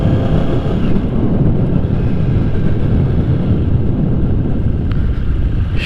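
A motorcycle pulls away in first gear with a steady, loud low engine rumble and wind buffeting throughout, close to the microphone with no pauses.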